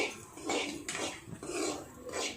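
Semolina is stirred into ghee in a home kitchen pan, a spoon scraping and clinking against the metal in several slow, uneven strokes, with no talking.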